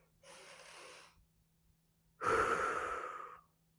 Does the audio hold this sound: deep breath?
yes